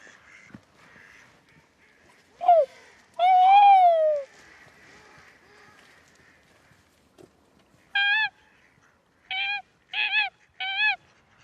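A female tawny owl calls at night in French countryside: several short, sharp, rising kewick-like cries, clear and fairly close, coming in a quick cluster after quieter, scattered sounds and an earlier longer call.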